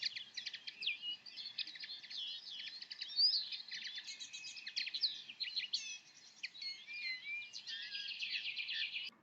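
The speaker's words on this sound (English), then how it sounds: "Linnets have a fast and zingy song, and this recording is a great mixture of song and calls" Linnets giving a fast, zingy song mixed with calls, a dense run of twittering notes and trills that carries on without pause, clear and fairly close, with no voices.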